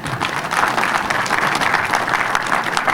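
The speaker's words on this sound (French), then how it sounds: "que je vous demande d'applaudir" Audience applause at a groundbreaking ceremony for storage and preservation infrastructure, honoring a director general; steady, dense clapping from a crowd fills the whole stretch at an even level.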